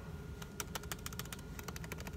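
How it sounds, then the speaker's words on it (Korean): Fingers tap quickly on a laptop keyboard with raised keys, a dense run of crisp clicks at a steady pace over a faint background hiss. "제가 원래 쓰던 컴퓨터 같은 경우에는 키보드가 이렇게 좀 이렇게 튀어나와 있는 형식이어서"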